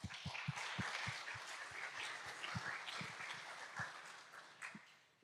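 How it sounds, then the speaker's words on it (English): Audience applause for the organizers at the opening of a tech conference keynote, a steady wash of many hands clapping across the hall, fairly faint and even, tapering off at the end. "let's give the organizers a big round of applause for setting this up"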